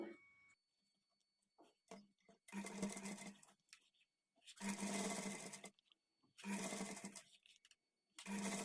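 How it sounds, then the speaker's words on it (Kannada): A sewing machine stitches piping onto a blouse neck, running in three or four loud whirring bursts separated by pauses, with faint clicks and handling sounds in between. "ಪೈಪಿಂಗನ್ನು ಈ ಥರ ಸ್ಟಿಚ್ ಮಾಡಿಕೊಳ್ಬೇಕು"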